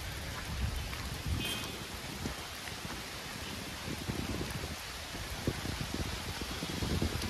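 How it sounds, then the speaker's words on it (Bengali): Light drizzle falls steadily outdoors near Santiniketan, a faint, even hiss of rain with scattered soft drop patters and no voices. "বৃষ্টি পড়ছে, ঝিমঝিম বৃষ্টি পড়ছে"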